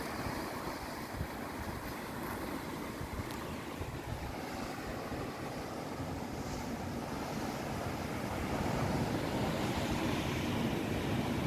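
Ocean swells surging in at Depoe Bay, Oregon, a continuous low rumbling wash of water with wind buffeting the microphone, steady and slightly building toward the end, with no voices.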